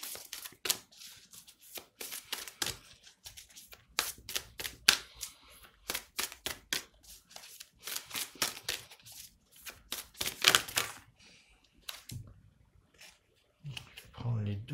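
Tarot cards are shuffled and laid down in rapid bursts of crisp slaps and riffles, close and quiet, with pauses between flurries and a voice speaking at times.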